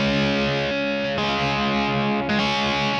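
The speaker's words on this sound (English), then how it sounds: "Even with this heavy amount of distortion and gain that I'm doing here, it adds a different sound to it by playing with my fingers" Electric guitar chords played with the fingers through heavy distortion and gain, a thick sustained wash with a softer attack, ringing steadily with brief changes and no talk.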